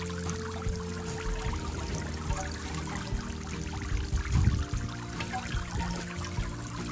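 A garden fountain splatters and splashes steadily, water pouring and trickling into its basin in a continuous close wash with a brief heavier burst midway.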